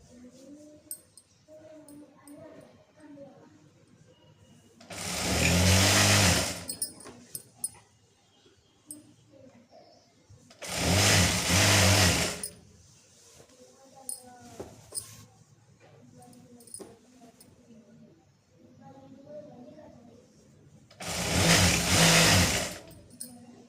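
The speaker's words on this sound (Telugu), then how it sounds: "ఇప్పుడు పిస్తా సైడ్ కుట్లు వేసుకోవాలి." A sewing machine stitches the side seams of straight-cut pants in three loud, steady bursts of about two seconds each, separated by quieter handling and rustling of fabric.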